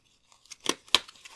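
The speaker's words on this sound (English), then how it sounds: "Shuffle my cards back here." Oracle cards being shuffled by hand during a card reading, a few quick, crisp papery riffles and snaps, close and fairly quiet with no talking.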